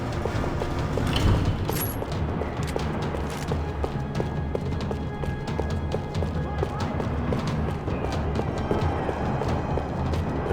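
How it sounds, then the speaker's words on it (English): Gunfire crackles through a parking lot in Max Payne 3: dense, continuous bursts of sharp cracks, some near and some farther off, with no pause over a steady wash of background noise. "Another parking lot rattling with gunfire"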